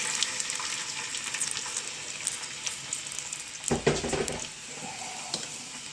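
Stock for hot and sour soup stirred in a frying pan, a bright steady sizzle with bubbling crackles and a brief louder burst of stirring near the end.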